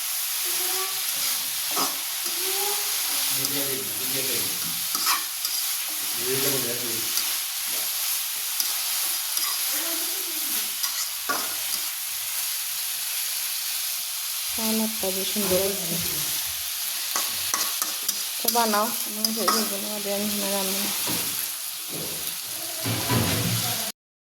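Curry frying in oil in a home kitchen sizzles steadily, with the scrape and clatter of stirring throughout and voices talking intermittently over the cooking noise.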